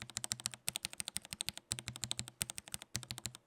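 Fast, steady typing on a mechanical keyboard fitted with pre-lubed switches, crisp close clacks in quick runs separated by brief pauses, with no voices.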